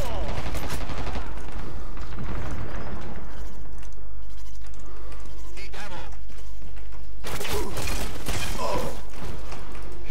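Gunfire in the online shooter Dirty Bomb comes as bursts of rapid shots and mechanical clatter, loud and close, mixed with players talking in Czech over the game sound.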